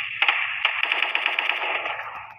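Rapid automatic AK rifle fire from the video game Special Force 2 rattles in a fast, even burst of sharp shots lasting about two seconds, with a couple of separate louder shots at the start.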